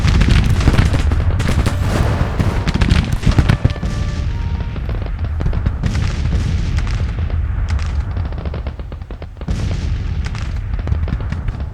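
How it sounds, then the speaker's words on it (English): Artillery fire in the American Civil War strategy game Grand Tactician: The Civil War, a dense, continuous barrage of booming cannon shots and crackling gunfire, loud and sustained with only a brief lull near the end. "Not understanding why Rosser is not shooting at the enemy artillery."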